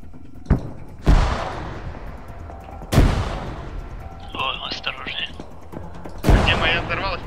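Gunfire and blasts from an ArmA 3 firefight ring out, including an enemy grenade exploding: several sharp, loud booms spaced across the scene with crackling echo, mixed with smaller distant shots and brief bursts of radio-like chatter.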